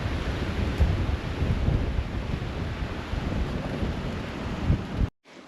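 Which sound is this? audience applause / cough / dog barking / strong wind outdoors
strong wind outdoors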